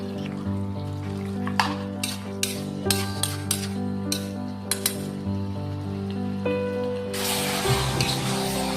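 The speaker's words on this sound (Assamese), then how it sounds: "প্ৰথমতে লৰাই দিওঁ মাংসখিনি" Marinated chicken fries in a pan for a home-style curry while a utensil clinks against the metal in a regular rhythm over a low hum, then a burst of sizzling near the end.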